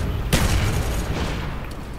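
Python revolver fire in a Call of Duty match, a sharp loud shot near the start followed by a dense rumble of continuous battle noise and booms.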